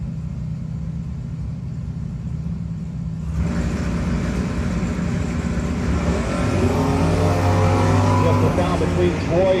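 Drag race cars roar down the strip at the No-Box 660 Shootout, including a Mopar, starting as a low idle rumble, then a loud sustained engine roar that builds as the cars launch and accelerate.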